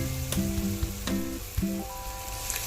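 Spice masala sautéing with onion and tomato in a pan for dal, a steady close sizzle with three sharp scraping stirs spaced about a second apart.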